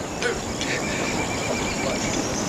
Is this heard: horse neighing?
yes